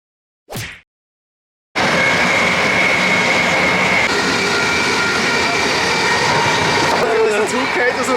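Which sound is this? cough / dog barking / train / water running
train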